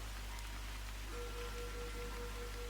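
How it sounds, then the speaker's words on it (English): Rain falls outside at night during the Andalusian rainy season, a faint, steady hiss of drops under a low background hum, with a soft tone sounding intermittently. "it's raining outside"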